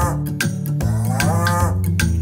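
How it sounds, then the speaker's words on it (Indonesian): A cow moos loudly and close, a long drawn-out bellow with a cowbell-like clank, heard clearly over a short stretch. "Itulah suara sapi."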